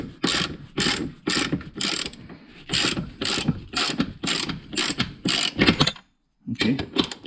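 In a small workshop, a ratchet tightens a bolt and nut with a close, steady rhythm of clicking strokes, about a dozen in a row, then a brief pause and a few more clicks.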